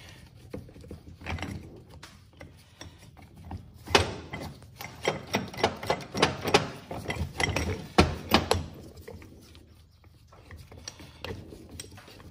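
Super ATV bearing removal and installation tool being tightened on a threaded rod, a long run of close, loud ratcheting clicks and metallic turning in uneven bursts, easing off near the end.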